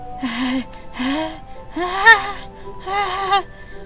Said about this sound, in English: Sharp inhale like someone sucking the air through their teeth.